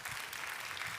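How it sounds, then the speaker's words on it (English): Applause from an audience at a coding conference lightning-talk session, a faint, brief patter of clapping heard at some distance. "give him a round of applause"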